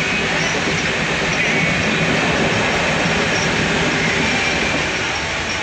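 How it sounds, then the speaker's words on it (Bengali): A Rajdhani Express passenger train rushing past nearby, a loud, continuous roar and rumble that holds steady for several seconds with no talk. "ট্রেন যাচ্ছে, শতাব্দী গেল না এটা, রাজধানী এক্সপ্রেস"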